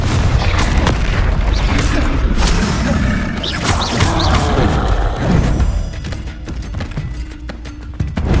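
Confringo fire spell blasts in the Hogwarts Legacy video game, heavy booming impacts over a dense, continuous layer of game combat noise and music, loud and close.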